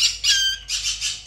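Parrots, including conures, let out a rapid series of shrill, harsh squawks in close succession, loud and near, with short gaps between the piercing cries.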